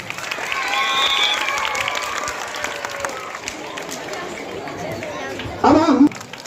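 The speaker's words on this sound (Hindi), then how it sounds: "जोरदार तालियां।" An audience at a prize distribution claps in a steady, moderately loud round of applause that gradually thins out, mixed with crowd chatter and a voice speaking over it.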